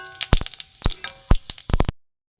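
Bay leaf, a dried red chili and five-spice seeds hit a little hot oil and crackle in sharp, loud pops, several close bursts over two seconds before cutting to silence, with no voices.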